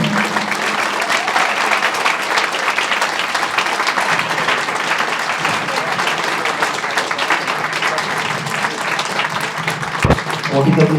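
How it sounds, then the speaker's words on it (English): Audience at a charity impact event applauds steadily for a supporter receiving a shirt, a dense, sustained wash of clapping close by with a brief louder burst near the end. "a round of applause, please"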